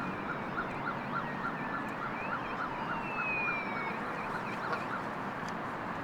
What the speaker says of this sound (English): our ALS ambulances are arriving on scene